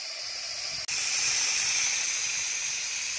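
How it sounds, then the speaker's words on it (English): Steam vents loudly and steadily from a NESCO electric pressure canner during its venting period, a continuous close hiss with one brief dropout near the start. "This is just blowing it out like a steam engine."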